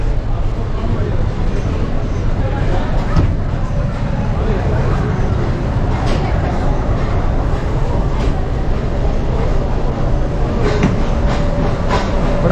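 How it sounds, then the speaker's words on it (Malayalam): A Nilgiri mountain train stands at Coonoor station near Ooty, its steady low rumble and mechanical hum filling the platform with faint clanks, under a continuous wash of crowd noise. "ഇതിപ്പോൾ നമ്മൾ വന്ന ട്രെയിനാണ്."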